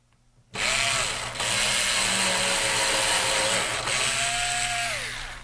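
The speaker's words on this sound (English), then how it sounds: "we'll drill that hole." A power drill whirs loudly for several seconds while drilling a small hole in a model train layout, its pitch dipping and rising as it bites in, then winds down.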